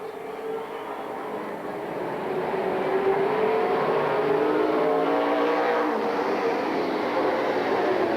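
Race cars in a Tri-State Challenge Series event roar around the track in a continuous, loud engine wash that swells after the first couple of seconds and holds steady, with no one speaking.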